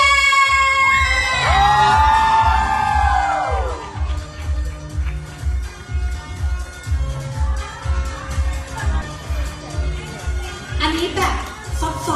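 A crowd at a launch event cheers and shouts for someone, the excited voices loud at first, then thinning while music with a steady thumping beat plays underneath.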